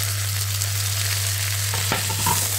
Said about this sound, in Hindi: प्याज गोल्डन होने तक पक रहे हैं